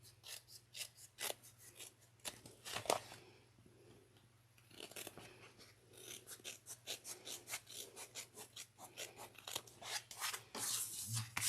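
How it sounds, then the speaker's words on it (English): Scissors cut through fabric along a white chalk line for a bag pattern, giving repeated crisp snips and rasping slides at close range, quiet against a low steady hum, with a brief lull partway through. "And I'm going to cut on the white chalk line."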